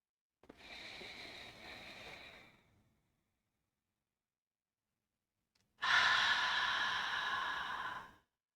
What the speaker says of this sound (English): Exhaling out through the mouth, releasing through the chest, the rib cage, and then the belly.